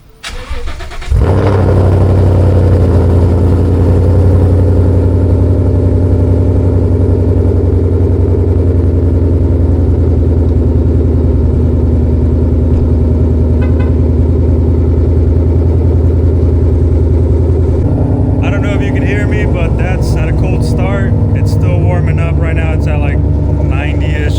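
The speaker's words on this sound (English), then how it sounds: "I'm gonna do a cold start. That way you can see how it sounds when it's at a cold start." A 2015 Mustang GT with an H-pipe exhaust fires up from cold and settles into a loud, deep, steady idle close by, with a brief change in tone near the end as the engine note shifts.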